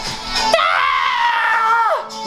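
A man screams loudly and continuously in one long, strained, high-pitched cry lasting nearly two seconds, close to the microphone, with a short vocal burst just before it and faint voices behind.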